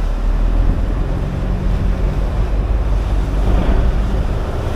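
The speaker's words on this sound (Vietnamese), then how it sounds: "Mưa sóng nó sóng rất là lớn luôn cả nhà." Big waves crash and wind roars around a fishing boat at sea in the rain, a loud, steady wash of surf and gusts filling the whole stretch without a break.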